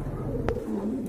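Large, healthy pigeons at a market stall give a brief low coo, heard once over a steady hum of background noise.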